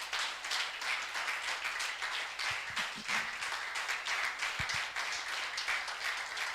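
A church congregation claps and cheers for the Lord in sustained, dense applause that fills the room without letup.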